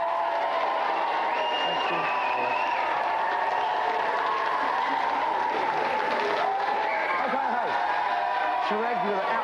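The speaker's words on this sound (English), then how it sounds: "let's have a big round of applause for all of our contestants" A studio audience applauds contestants on a game show, with dense, continuous clapping and some cheering throughout.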